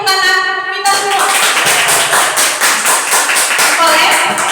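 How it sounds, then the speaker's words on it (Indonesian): A classroom of students claps together in a brief burst of applause, rhythmic and close, following a teacher's thanks, with voices mixed in. "Mari tepuk tangan kita semua."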